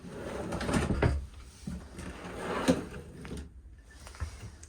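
Deep dresser drawers in a 2025 Forest River Salem Grand Villa 42View RV are slid open and shut, giving a few close, distinct wooden knocks and slides against a quiet room.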